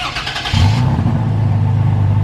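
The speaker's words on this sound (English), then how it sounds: "So now we can start the engine by pushing and holding" A 2020 Toyota Tacoma TRD Off Road Premium engine cranks and catches after a push-button start, then settles into a loud, steady low idle rumble close by.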